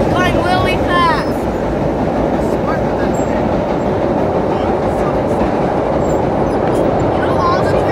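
A New York subway train made of R160 cars runs fast along the rails, a loud, continuous roar and rattle heard from inside the car, with a few high squeals near the start and end.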